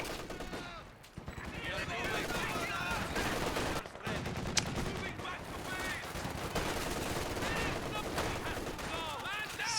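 Enemy machine gun fire in a World War II style video game battle, sustained rapid bursts with overlapping gunshots and distant explosions, loud and nearly continuous with brief pauses, under battlefield noise and voices.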